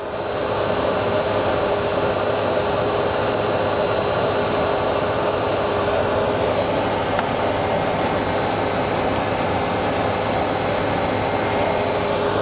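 An industrial pump runs steadily at its drive-end bearing during a triaxial vibration route measurement, giving a loud, continuous machine whine and broadband rumble with a constant tonal hum throughout, no voices.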